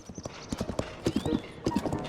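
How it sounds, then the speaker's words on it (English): Steady clip-clop of horse hooves at a trotting rhythm in the video game The Legend of Zelda: Tears of the Kingdom, close and clear, with a brief whinny partway through. "there is something peaceful about riding a horse through Hyrule"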